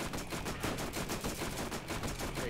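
Rapid automatic gunfire from a turret in the Borderlands shooter game, a continuous rattling burst of evenly spaced shots at steady loudness with no talk over it.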